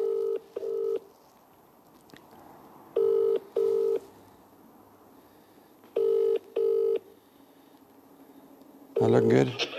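Telephone keypad tones dial a number for a call, arriving in paired bursts of two beeps with pauses between them, clear and close, with a rustle and brief noise at the end and a voice nearby.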